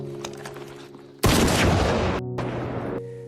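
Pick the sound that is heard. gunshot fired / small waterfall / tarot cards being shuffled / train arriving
gunshot fired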